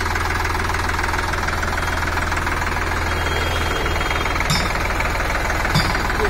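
A new 2023 Sonalika DI 47 RX 4WD tractor engine runs at a loud, steady throb while the tractor turns, a close, continuous rumble with a faint knocking beat and no talking.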